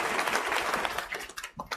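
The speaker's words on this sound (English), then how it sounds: "Give him a round of applause, you guys" A church congregation at a funeral service in Washington, D.C. breaks into applause, a brief dense burst of clapping that fades out near the end.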